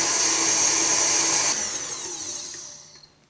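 Electric hand mixer whipping egg whites and sugar into pavlova meringue, a steady high whirring hum that runs briefly then winds down and stops.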